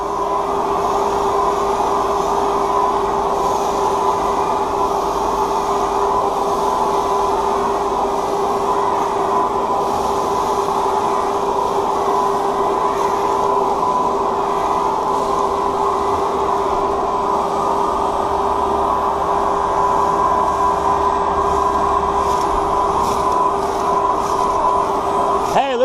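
A battery-powered backpack leaf blower runs steadily on turf, giving a constant close whooshing airflow with a steady motor whine and no pauses.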